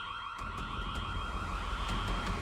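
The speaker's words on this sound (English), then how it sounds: "Why is the alarm going off?" An alarm sounding in an Ironheart episode, a steady electronic tone with sustained pitches over heavy low rumble, continuous and loud throughout, no talk.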